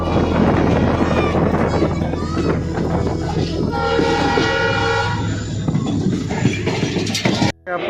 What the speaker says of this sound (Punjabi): ਬਹੁਤ ਤੇਜ਼ ਚਲਾਉਂਦਾ ਬਈ ਟ੍ਰੇਨ